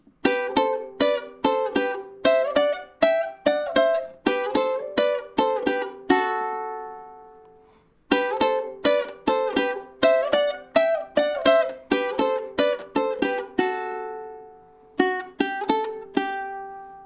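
Bright plucked ukulele notes play a short repeating riff in quick bursts, each phrase ending on a ringing note, with pauses between.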